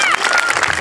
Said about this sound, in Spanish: Quiero escuchar bien fuerte esos aplausos